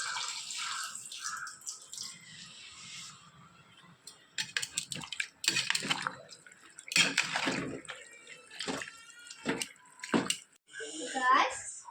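Water splashes and pours into a pot of chicken curry in several bursts, while a person talks nearby.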